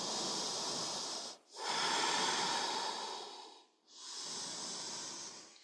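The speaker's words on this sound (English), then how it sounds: "Just lengthen the exhalation, let the body soften forwards." Two long, breathy exhalations with a short inhale gap between them, close and steady, during a core-strength exercise; a soft airy hiss with no talking.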